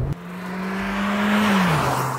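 Heard from inside the cabin, the engine of a 2021 Volkswagen Taigun SUV revs past 3,500 rpm with a steady, boomy drone that holds, rises slightly and then drops as the revs fall.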